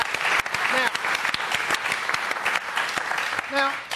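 Applause from a studio audience on a football talk show, steady dense clapping filling the whole stretch, with a host's voice cutting through briefly near the end.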